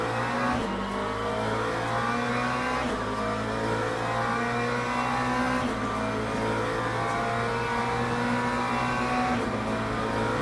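A pack of race cars in the Le Mans Ultimate game accelerating from a green flag start, engines revving hard and climbing through the gears with repeated shift drops, loud and continuous.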